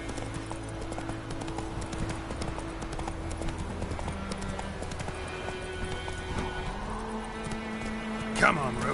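Hooves of Roach, a horse in The Witcher 3, clip-clop in a steady rhythm over a continuous bed of game music and ambience, with one louder knock near the end.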